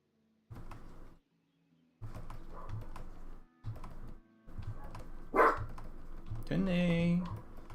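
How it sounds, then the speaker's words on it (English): A dog barks several times in short bursts indoors, mixed with typing-like clicks and a door sound, while a person talks nearby. "I know you hear the dog"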